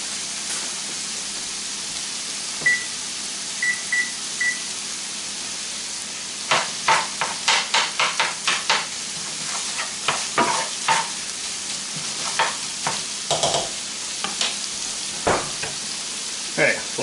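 Sausage browning in a pan for biscuits and gravy: steady sizzle throughout, with clustered scraping and stirring clicks growing denser in the second half, close and fairly loud, no talking.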